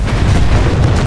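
A quad rocket explosion from the Titanfall 2 video game, a short, loud, low booming burst that fills the whole moment with heavy rumble.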